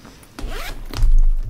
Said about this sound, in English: Top zip closure.